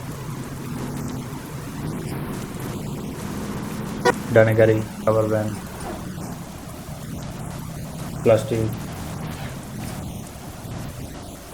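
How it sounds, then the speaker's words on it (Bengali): Steady rain hiss runs throughout beneath a bus's engine drone, with people talking and a couple of short horn-like tones rising briefly above. "বৃষ্টি শুরু হয়ে গেছে"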